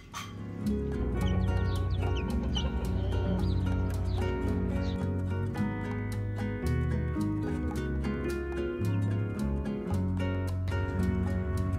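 Backyard chickens of exotic breeds cluck and chirp continuously at close range, with layered bird calls and a steady rhythmic clatter throughout, no speech.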